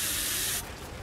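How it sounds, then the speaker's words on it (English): First aid spray in a horror video game gives a loud, steady aerosol hiss for about half a second, then cuts off into a quieter tail. "be sure to use a first aid spray for a refreshing haptic experience"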